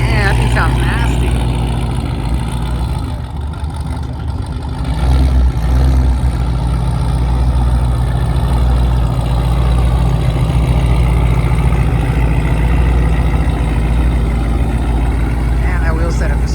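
A BMW idles at a night car meet, its engine giving a deep, steady rumble close by that holds under loud crowd chatter and people talking nearby, dipping briefly before settling back into a constant low drone.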